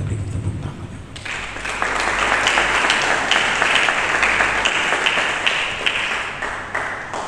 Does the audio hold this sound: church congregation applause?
yes